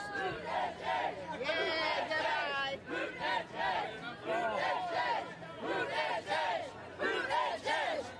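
A dense crowd of political supporters and protesters for Democratic presidential candidates shouts and chants in rhythmic bursts, heard from right in the middle of the throng.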